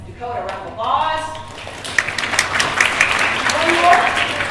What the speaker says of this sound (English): Dakota, round of applause